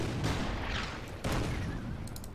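Gunfire and artillery shots in the video game Order of Battle, set in Bougainville with US Marines: faint, muffled bursts and booms, with a sharper crack near the middle and a few light clicks at the end.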